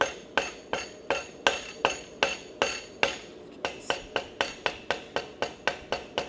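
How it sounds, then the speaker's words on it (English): Blacksmith forging hot steel with the peen of a hammer, about twenty sharp metallic strikes in a steady, brisk rhythm, ringing and close, each blow followed by a brief decay, with no voices. "When you forge with the small peen of it, you can move more steel exactly where you want it."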